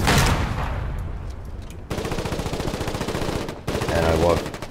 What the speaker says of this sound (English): And I walked right into gunfire.